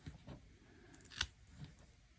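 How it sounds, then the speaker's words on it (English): Scissors trim scrapbook paper in a few quiet snips, with one sharper cut in the middle against a faint, otherwise still background. "I need to trim these down"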